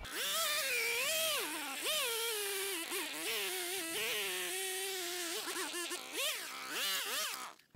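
A Harbor Freight chainsaw with a freshly sharpened chain runs loud and close cutting wood, its pitch rising and dipping continuously as it bogs down and revs through a cut.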